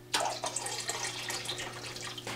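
Water poured into a fish quarantine tank during a water change, a close, bright splashing stream running continuously and stopping near the end.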